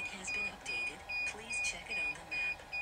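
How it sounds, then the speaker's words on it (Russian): A faulty drone remote controller emits a repeating high electronic beep pulsing at an even rhythm, several short tones in a row, fairly faint against quiet background noise. "Пульт пищит, мигает красными кнопками"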